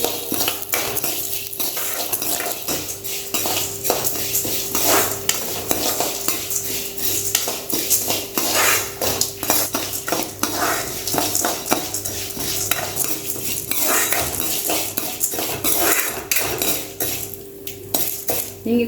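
Urad dal and chana dal dry-roasting in a pan for curry leaf podi, with steady scraping and clinking of a metal spoon against the pan and a dry rattle of lentils throughout, no voices.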